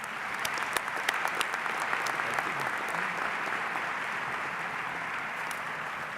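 Steady, sustained audience applause at a 2018 medical school commencement ceremony, a dense wash of clapping hands from a large crowd that holds even throughout, with no talking over it.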